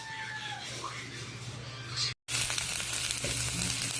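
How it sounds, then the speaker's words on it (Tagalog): Ground pork being sautéed in a pan for a vegetable dish with patola, a steady close sizzle with a brief cut of silence midway. "Gisa-gisa lang po muna natin itong giniling."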